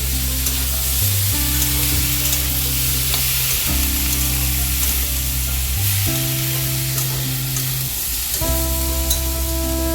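Amaranth stalks sizzle steadily in hot oil in a pan while being stirred, a loud continuous frying hiss with occasional scraping movement and a persistent low tonal hum underneath.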